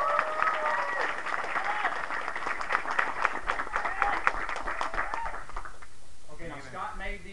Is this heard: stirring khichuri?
no